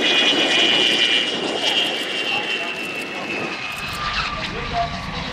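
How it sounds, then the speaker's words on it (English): A jet warbird such as an F-86 Sabre lands long at the EAA AirVenture Oshkosh airshow and rolls fast down the runway, its loud, steady jet roar fading a little as it goes, with a voice over the top. "He'll land a little long on the runway and then continue to speed down the runway"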